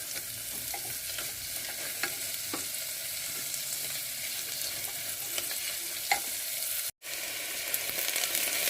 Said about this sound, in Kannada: ಹಸಿರು ಮೆಣಸಿನ್ಕಾಯಿ, ಈರುಳ್ಳಿ ಅಷ್ಟನ್ನು ಕೂಡ ಹಾಕ್ತಾಯಿದ್ದೀನಿ. ಇದನ್ನು ಒಂದು ಸ್ವಲ್ಪ ಚೆನ್ನಾಗಿ ಮಾಗಿಸ್ಕೋಬೇಕು.